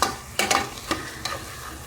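Cauliflower sautés in a pan for pulao, a close sizzle punctuated by three or four sharp stirring scrapes and knocks against the pan.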